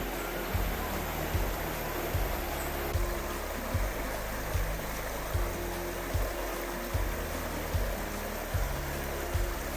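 Creek water flowing steadily beside a campsite in Washington, a continuous broadband rush with low, regular thumping pulses underneath, fairly close and without talk.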